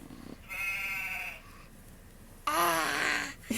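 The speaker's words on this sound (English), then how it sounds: "Sheep." Sheep bleats come from a toy or app playing farm animal noises: two wavering calls, the first about a second long and the second louder, both close and clear.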